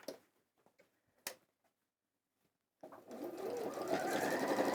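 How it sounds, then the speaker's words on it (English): A sewing machine stitches along the raw edges of fabric, starting after a few quiet ticks and clicks and then running as a steady whirring hum that builds slightly, close by and without talk. "drop your needle into the fabric, pivot your fabric, and then again sew along those raw edges"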